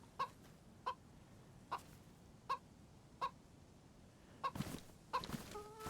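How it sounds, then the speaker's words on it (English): A chicken in the video game DayZ gives short, sharp clucks at a regular pace, about seven in six seconds, over a quiet background, with a few faint thuds and rustles near the end. "Wow, I hunted a chicken with an axe."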